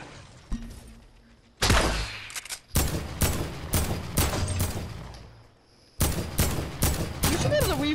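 Sniper gunfire in Fortnite, loud repeated shots in close bursts with short gaps between them, sharp and near, with no talking over it.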